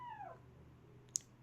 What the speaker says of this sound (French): il y a mon chat dans la chambre qui fait un peu le bordel